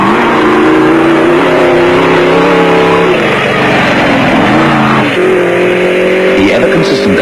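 A V8-powered Isuzu off-road race truck at the 1992 Caledon off-road race in South Africa, its engine roaring loud and close, the pitch climbing and dropping through gear changes and revs without a break.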